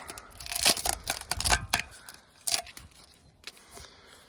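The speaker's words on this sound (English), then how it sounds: "let's get rid of this tape here" Tape being pulled and torn off a cheap backhoe attachment, a series of close sharp ripping and peeling bursts with short pauses between them, followed by a few fainter crinkles.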